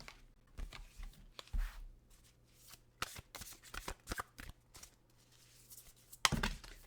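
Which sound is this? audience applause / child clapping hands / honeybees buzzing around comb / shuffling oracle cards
shuffling oracle cards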